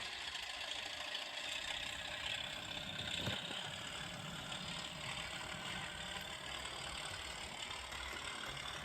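A model Class 37 diesel locomotive's sound system hums and idles steadily for several seconds, a faint continuous mechanical drone with a brief sharp click midway.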